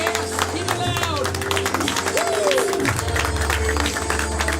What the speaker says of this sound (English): Clap for them. Show them some love, everybody.